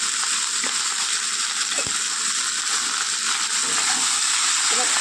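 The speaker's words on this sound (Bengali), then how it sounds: "সবজিটা ভেজে নেব" Bitter gourd, eggplant and potato fry in a pan with salt, giving a steady, close sizzle with faint clinks and scrapes.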